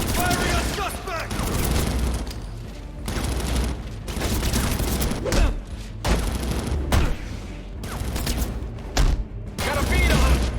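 Guards firing guns in Batman: Arkham Origins, loud bursts of automatic fire and booming shots crowding together in dense volleys, with shouting voices mixed in throughout.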